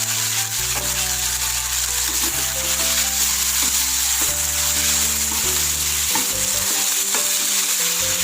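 Spinach (cheera) sautés in a pan for sambar, giving a close, steady sizzle with occasional stirring scrapes, and no one speaks.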